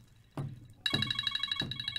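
A phone rings quietly in the background: a few faint, metallic bell-like bursts repeat at a steady pace.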